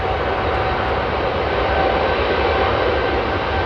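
Boeing Dreamliner jet departing Heathrow, a close, loud and steady engine roar with deep rumble throughout and no talk.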